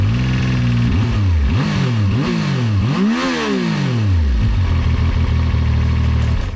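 A Zontes 703 F three-cylinder adventure motorcycle idles, then revs in several sharp rising blips before settling back to a steady idle, loud and close with no talk.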